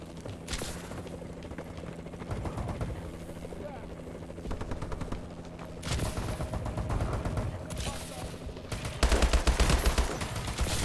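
Rapid gunfire bursts from Call of Duty Advanced Warfare crackle in fast volleys over a droning helicopter-like hum, growing louder near the end, while a player talks over the action.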